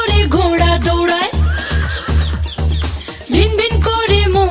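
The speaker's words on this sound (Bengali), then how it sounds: "হিন হিন করে ঘোড়া দৌড়ায়" A horse whinnies amid a children's animal-sounds rhyme, its neighing blended into loud, steady rhythmic music with a pulsing beat throughout.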